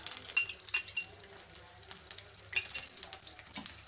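Onions tipped into hot cooking oil for Lahori chana, a steady crackling sizzle with sharp clinks of a utensil against the pan scattered throughout, close and fairly quiet.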